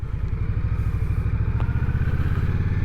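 An Indian Scout Bobber motorcycle engine idles with a loud, steady, low throb of close rapid pulses, running alone with no voices.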